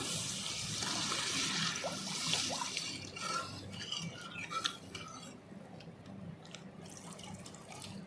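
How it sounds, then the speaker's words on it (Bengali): Water poured into a pan of well-fried masala for a bhola fish curry with mustard paste, heard as a close splashing trickle that thins out into lighter drips and faint clinks. "এবার জল দিয়ে দেবো পরিমাণ মতন"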